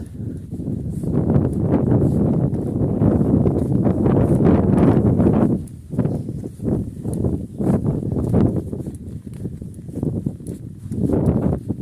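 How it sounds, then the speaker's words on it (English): Gusty wind on a cold, wet day buffets the microphone with a loud, low rumble that swells and dips in uneven gusts throughout, with no talking. "You can possibly hear it in the camera, and I have to remind myself as the wind goes and I tense up"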